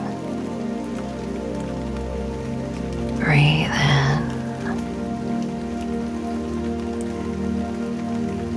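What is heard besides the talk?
rain falling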